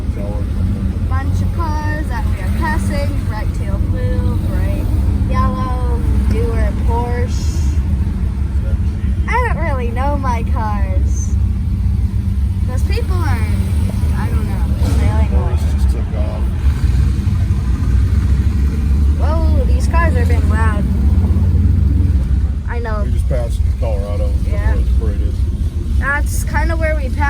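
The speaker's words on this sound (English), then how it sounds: "Bunch of cars that we are passing." Classic cars passing by at a heritage car cruise in Pasadena, a steady mix of engine rumble and revving along the street, mostly under continuous nearby talk.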